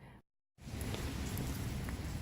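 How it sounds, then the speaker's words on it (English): Steady rain falling outdoors, a dense even hiss of drops that cuts out briefly near the start and then returns at full strength, close and continuous with no voices. "It's raining."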